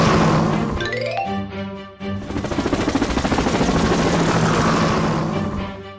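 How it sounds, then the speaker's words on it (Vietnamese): An animated helicopter flies with a loud, rapid rotor chop that starts after a short rising musical flourish and continues steadily to the end. "Trực thăng kia, đi thôi."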